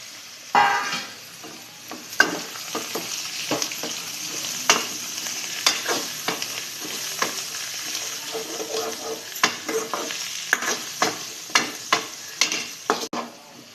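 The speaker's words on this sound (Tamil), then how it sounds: "ஃப்ளேவருக்காக கொத்தமல்லி ஆட் பண்ணி நல்லா வதக்கிக்கலாம்." Coriander being sautéed and stirred in a pan while making pirandai thuvaiyal, a Tamil chutney: a steady low sizzle under repeated spoon scrapes and knocks against the pan, with no talk.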